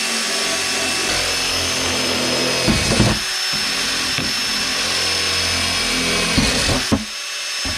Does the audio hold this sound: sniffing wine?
no